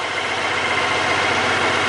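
A Honda Goldwing GL1800 motorcycle engine with about 40,000 miles, running at a smooth, steady idle with an even low rumble, close and alone.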